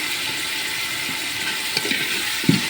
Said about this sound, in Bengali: দিয়ে ভালোভাবে নাড়াচাড়া করে কষিয়ে নেব। দিয়ে দেবো একটুখানি লবণ, আর একটু দিয়ে দেবো হলুদের গুঁড়া।